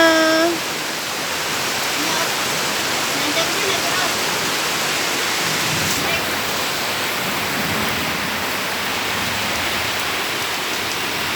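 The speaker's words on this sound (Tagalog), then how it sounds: "Ayan, nagbaha na guys." Floodwater rushes in a steady, dense roar like a torrent, continuous and fairly loud throughout, with a brief faint voice at the very start.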